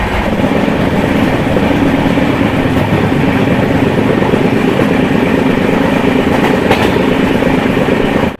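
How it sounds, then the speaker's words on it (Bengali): A passenger train rumbles across Bally Bridge over the Ganga near Kolkata, a loud, continuous roar with rhythmic clatter of wheels, heard from on board. "এখন আমাদের ট্রেনটা পাস করছে বারে ব্রিজ"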